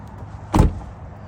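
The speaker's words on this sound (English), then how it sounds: "Let me pop the hood." Popping the hood of a 3-valve 4.6 S197 Mustang gives a single short, solid thunk that rises out of quiet background noise and fades quickly.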